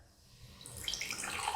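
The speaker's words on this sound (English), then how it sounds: "we're gonna fill one of our beakers with water" Water poured into a laboratory beaker, a soft rising trickle and splash that grows steadily louder over a moment, close by and alone.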